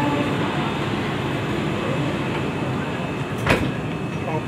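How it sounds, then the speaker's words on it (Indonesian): The Kalayang airport skytrain at Soekarno-Hatta pulls away from the station with a steady rolling rumble and a brief sharp swish or squeal partway through, heard from inside the car. "ini kita udah berangkat dari stasiun kereta bandara"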